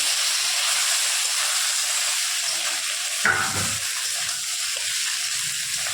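Potatoes frying in oil with cumin give a steady loud hiss and sizzle, with a brief clatter of stirring partway through.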